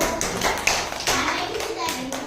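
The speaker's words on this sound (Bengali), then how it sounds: "এই সাথী বলে জন্য হাততালি।" A classroom of children claps hands together, a dense patter of close, bright claps running the whole moment, with kids' voices mixed in.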